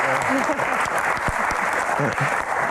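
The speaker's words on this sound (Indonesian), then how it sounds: "Tepuk tangan." A studio audience at a Metro TV Q&A claps in a dense, steady burst of applause, with a voice speaking over it.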